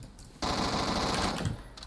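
Automatic secondary weapon firing at 800 rounds per minute in the Roblox game Phantom Forces: one loud, continuous rapid burst lasting just over a second, with no talk over it.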